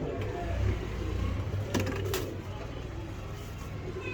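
Pigeons coo in low, soft throaty tones close by, most noticeable in the first second, over a steady background hum with a couple of brief clicks.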